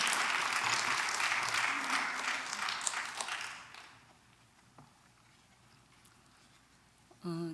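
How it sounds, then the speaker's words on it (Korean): A congregation claps in welcome for a guest speaker at a Wednesday church service, the dense applause filling the room for about four seconds before fading to a quiet hum of the space, with a brief sound at the end. "박수로 함께 환영하겠습니다."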